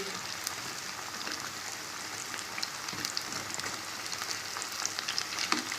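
Maida pakoras deep-frying in hot oil, a steady dense crackling sizzle with scattered pops and brief stirring sounds, close and continuous.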